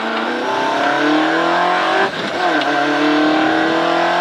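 A rally car screams along a stage at Castle Combe, its engine held loud and steady under hard throttle, with a brief dip in the note around a gear change before it climbs again.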